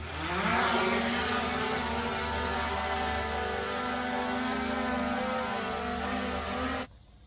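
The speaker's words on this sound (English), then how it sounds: "All right, so we've done the drone." A camera drone flies overhead at a pool and concrete photography shoot, its steady, loud buzzing whine holding for about seven seconds with faint harmonic bands before cutting off abruptly.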